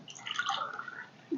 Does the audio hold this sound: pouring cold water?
yes